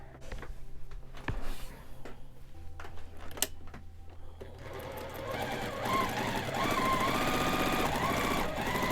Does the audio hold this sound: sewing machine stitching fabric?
yes